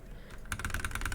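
Arrow keys on a computer keyboard are tapped in a fast, steady series of close, crisp clicks, about a dozen presses in rapid rhythm, with no talking.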